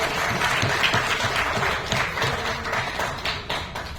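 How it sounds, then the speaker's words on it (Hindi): Steady applause from a comedy festival audience, many hands clapping continuously at moderate loudness for the full few seconds. "आप तालियां बजाने में कंजूसी नहीं करें"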